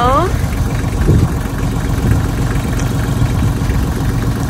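A tractor engine runs steadily nearby, a continuous low idling rumble with slight vibration, while a voice talks over it.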